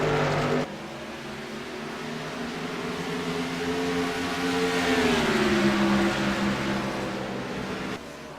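The No. 75 Hoosier race car and other cars roar steadily around a track, engine drone rising and shifting in pitch as they race, loud and continuous for several seconds.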